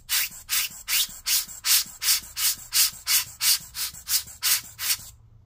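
A ThinkPad X1 Carbon (6th generation) cooling fan, turned by hand, gives a quiet, close, evenly repeated scraping whir, about a dozen rhythmic swishes in steady succession.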